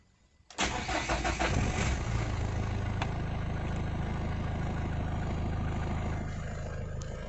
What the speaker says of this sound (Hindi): अब गाड़ी को स्टार्ट करके देखते हैं।